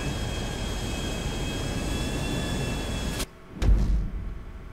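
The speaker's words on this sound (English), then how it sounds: "It's a fast enough jet, but is it maneuverable enough?" A jet in GTA 5 Online roars steadily at close range, then cuts off abruptly into near silence before a brief low rumble and thump follow.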